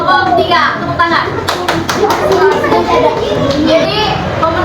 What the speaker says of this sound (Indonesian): Jawaban skor tambahan 1 untuk kelompok 3. Tepuk tangan.